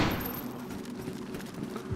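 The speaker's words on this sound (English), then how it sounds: "Why do I keep hearing so many guns and stuff?" Distant gunfire in a video game, a muffled, continuous clatter of overlapping shots heard over a low background rumble.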